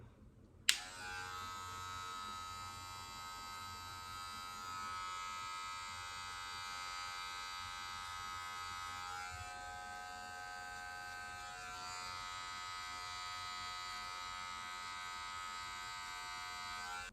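Electric hair clippers switch on with a sharp click, then buzz in a steady, close, high-pitched drone during a self-cut high taper, the tone shifting slightly as the blade lever closes, with no talking.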